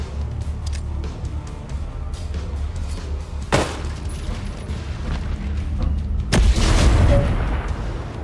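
Grenade blasts in the tactical shooter Ghost Recon Breakpoint: two sharp booms, one near 3.5 s and a bigger one around 6.3 s with debris rumble after, over steady low game ambience.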